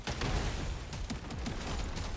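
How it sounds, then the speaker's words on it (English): Dense stream of explosions and gunfire in the video game Deep Rock Galactic: Survivor, a continuous crackling barrage with repeated sharp bursts, fairly quiet overall. "Big boy explosion time."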